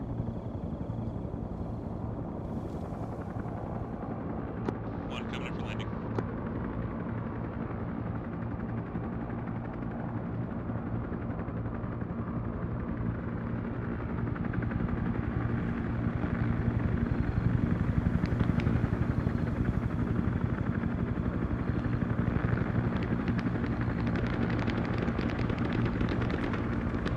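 An aircraft coming in to land in the Arma military game drones as a steady, loud engine and rotor-like hum that swells and grows nearer about midway, with brief clicks and no talk.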